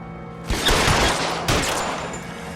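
Gunfire in the video game L.A. Noire: two loud bursts of shots, the first erupting about half a second in and rolling on, a second volley a second later, then fading rumble, with no talking.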